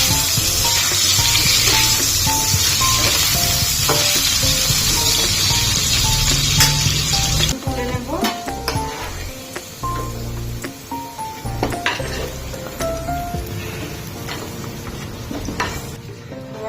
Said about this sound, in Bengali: নুন দিয়ে আলুটা ভেজে নিচ্ছি